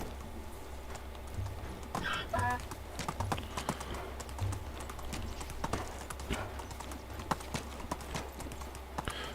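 Hooves of a donkey clip-clop at a steady walking pace in the medieval village survival game Medieval Dynasty, the rhythmic hollow knocks running throughout over a low ambient hum.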